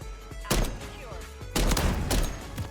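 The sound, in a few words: gunshots in a Call of Duty video game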